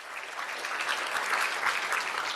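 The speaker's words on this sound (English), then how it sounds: "So please, round of applause as the Honourable Sidhu comes up." Soft, steady applause from an audience at a gathering at the Indian High Commission in London, heard at a moderate distance for a couple of seconds.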